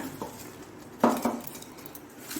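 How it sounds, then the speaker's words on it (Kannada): Cooled roasted spice masala for a Mangalorean veg sukka tipped into a mixer jar, heard as one brief clinking rattle midway through, close but modest, against an otherwise quiet background. "ಈಗ ಇದನ್ನು ನಾವು ಒಂದು ಮಿಕ್ಸಿಗೆ ಹಾಕೊಳ್ಳೋಣ."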